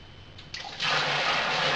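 Liquid pours into a fermenter holding water while making ginger and lemon hard lemonade; a soft trickle builds into a steady, close rushing pour.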